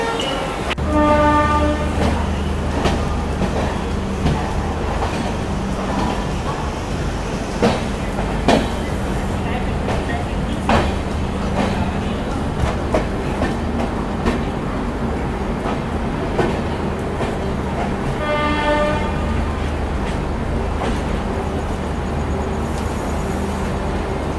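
A Rajdhani Express pulling out of Jaipur station at night, with a continuous loud rumble of the moving train, rhythmic wheel clatter and horn blasts near the start and again later.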